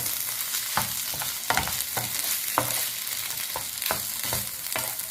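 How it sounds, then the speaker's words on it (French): Spicy filling with hot sauce frying in a pan, about to take chopped olives, a steady sizzle broken by repeated scraping strokes of a spoon at a regular rhythm, close and clear, with no talk. "On remue."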